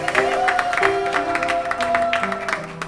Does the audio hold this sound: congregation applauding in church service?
yes